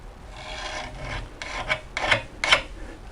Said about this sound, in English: I'm going to use the Speedy Sharp. I think that's better for loppers.